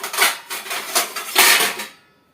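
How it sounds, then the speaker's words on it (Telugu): A metal lid clatters and scrapes onto a cooking pot in a few close clanks and rattles, ending in a short ringing settle before falling silent; no one speaks. "దీని మీద అయితే మూత అయితే వేసేసుకుందాము"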